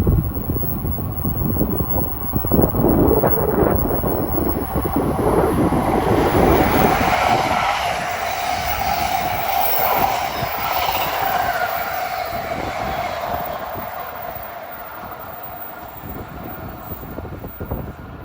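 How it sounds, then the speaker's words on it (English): An express commuter train, number 3943 from New York to Trenton, rushes past on the Northeast Corridor at Linden, New Jersey, a loud broad roar that builds, sustains and then slowly fades away. "We got train 3943 from New York to Trenton. This is one of those express trains to Trenton"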